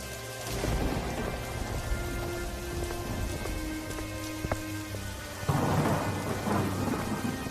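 Heavy rain falls steadily while thunder rumbles and cracks, with a sharp close strike in the middle and a louder rolling burst near the end.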